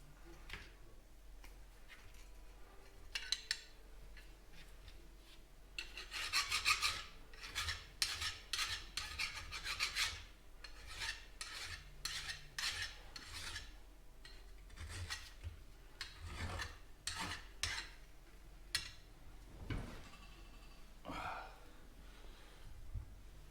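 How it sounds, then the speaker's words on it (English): A hand file rasps over metal held in a Prentiss vise, giving bursts of quick scraping strokes with light ticks and clinks between them, faint and close, with some soft voice in the background. "here's where we need some file work for sure"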